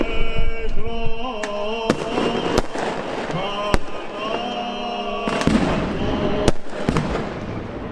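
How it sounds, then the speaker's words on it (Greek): Fireworks burst at the midnight Easter Resurrection celebration in Agios Nikolaos: repeated sharp, loud bangs and crackles over a steady tonal background, with voices of the gathered crowd audible throughout. "Τη στιγμή της Ανάστασης η νύχτα έγινε μέρα από τα πυροτεχνήματα."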